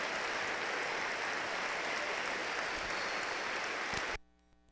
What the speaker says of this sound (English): He deserves way more applause than you give him